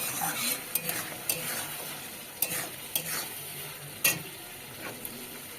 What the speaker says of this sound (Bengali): এবার আর একটু নেড়ে নিতে হবে